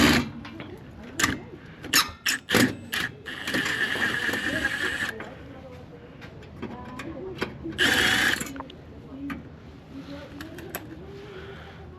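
A ratchet on a super long extension turns a headlight screw on a Toyota Hilux pickup, giving a run of sharp clicks and squeaky ratcheting bursts close by, interspersed with quieter pauses.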